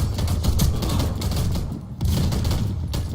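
Gunfire from the Warface video game, where a shotgun is in use: dense, continuous booming shots fill the clip at close range, with a brief dip near the two-second mark before the barrage resumes.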